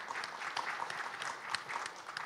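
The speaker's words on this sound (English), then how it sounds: "Please give Richard a round of applause" Audience at an international conference on social impact assessment claps for a speaker, a fairly quiet, steady patter of hands from a modest crowd, heard from a distance.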